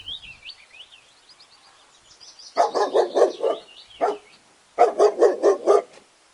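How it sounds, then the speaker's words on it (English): A dog barks in two quick bursts of several sharp barks each, loud and close, with a single bark between them and high whistling bird-like tones at the start. "D for dog."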